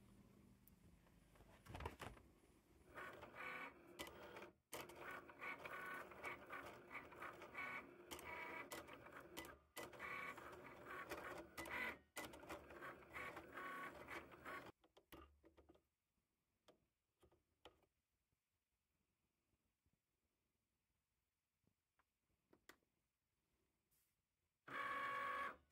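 An electronic craft cutting machine fitted with a pen and a cutter works steadily for about fifteen seconds, giving a fairly loud mechanical ticking and whirring with brief pauses, then stops and leaves near silence before a short closing burst.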